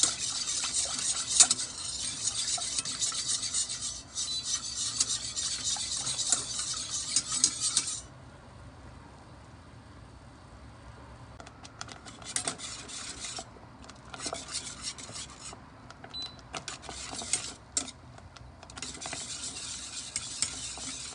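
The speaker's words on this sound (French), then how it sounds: "Je le mets sur le feu, درتها على النار ونحرك et je mélange." A spoon stirs orange cake mixture in a pot over the heat, rasping and scraping steadily and close. The loud bright stirring stretches turn quieter midway, and no one talks.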